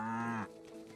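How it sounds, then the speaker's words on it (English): A cow in the farming video game Staxel gives a single short moo, close and clear, which cuts off partway through and leaves a faint background. "Look, the coy cow hiding behind the tree."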